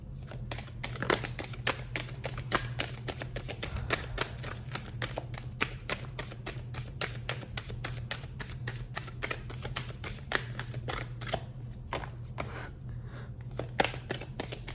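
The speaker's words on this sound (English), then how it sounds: "I've noticed with some of my shuffling that the cards don't want to come out" Tarot cards are shuffled rapidly and repeatedly close up, a continuous run of crisp riffling snaps over a faint low hum.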